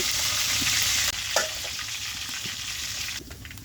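Onions, garlic and green chilies sizzle loudly in hot oil for spicy Korean street noodles, a dense steady crackle with a stir and clatter partway through and no talking.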